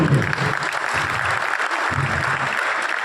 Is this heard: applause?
yes